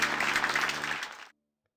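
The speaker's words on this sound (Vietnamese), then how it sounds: "Một tràng pháo tay cho kiến trúc sư Hailey tài ba nào" Cartoon applause from a crowd of clapping hands, a dense steady burst lasting about a second and a quarter before cutting off abruptly to silence.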